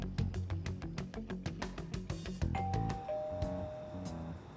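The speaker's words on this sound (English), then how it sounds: "Even Boss would have woken up with how many times we've rung this doorbell." Persona 5 Royal doorbell pressed over and over in the game, a run of chimes under the game's music, with two sustained tones near the end.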